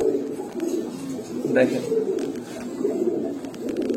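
A king pigeon coos in low, throaty repeated calls, close by, while someone talks over it for most of the moment.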